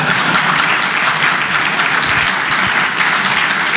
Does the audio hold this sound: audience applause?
yes